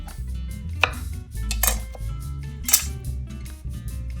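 Soft cutting and tearing sounds with a few crisp clicks and snaps close up, as a knife cuts through the base of a mushroom cluster and pulls it apart, against a low humming background.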